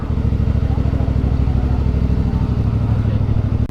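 A motorcycle rolls into the entrance of White Beach Resort in Torrijos. Its engine thrums close and steady with a rapid, even pulsing beat while voices talk over it.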